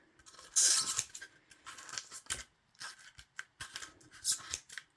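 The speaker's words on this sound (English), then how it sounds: "with your scissors, you can go around and cut off that extra foam sheet" Scissors snip and slice through a soft foam sheet in several bursts, close up, with brief pauses between cuts.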